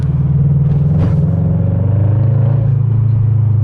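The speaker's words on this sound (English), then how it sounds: "You can tell when I accelerate, you don't get that rumble because of the leak in my header." A car engine fitted with a new custom exhaust header rumbles loud and close at a steady low pitch, rising slightly as it accelerates.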